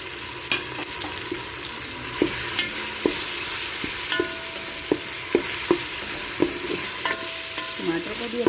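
Ginger fries in a pan with tomatoes being added, a constant close sizzle overlaid by regular spatula clicks and scrapes spaced about every half second to second.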